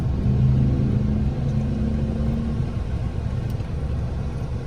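Cars move through a roundabout in Australia, a steady, close rumble of passing traffic with no voices.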